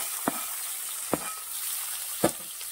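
Tomato sautéing in a hot pan over cooked onion for dry methi bhaji, giving a soft steady sizzle broken by three sharp stirring scrapes spaced about a second apart.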